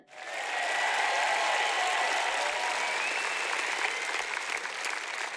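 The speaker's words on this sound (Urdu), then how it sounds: "کم آن، خدا کے لیے بہت سی تالیاں بجائیں" A congregation at a church sermon gives steady, dense applause that starts almost at once and carries on evenly throughout, with no talk over it.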